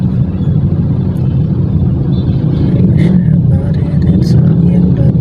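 A BMW car passing close by, a loud, steady low engine rumble filling the whole moment alongside wind and road noise, with people chatting faintly in the background.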